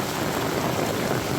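Steady rain falls during an outdoor walk with a dog, a constant broadband hiss of drops with no distinct pattering and no speech.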